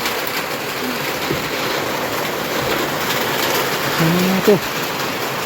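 Steady hiss of rain pours down throughout, broad and continuous, with a brief faint voice near the end.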